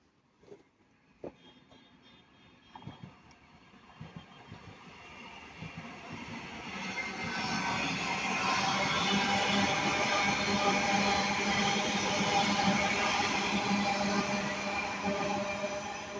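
A train passes at Ardwick bound for Manchester Piccadilly, a few faint clanks at first, then a broad rumbling roar swelling in from about seven seconds and holding steady and loud to the end.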